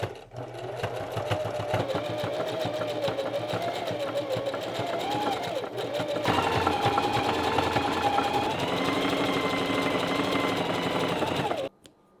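A domestic sewing machine stitches a hoodie kangaroo pocket seam in a long continuous run, a steady close whirring hum that shifts pitch midway and stops abruptly near the end, with a voice talking over it.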